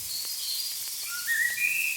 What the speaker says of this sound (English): It's just a sample of, an English garden with birds